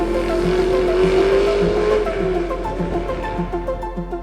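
BMW E92 M3 V8 engine giving a loud, close, rasping induction bellow that holds a steady tone, then begins to pulse and fade slightly as revs change.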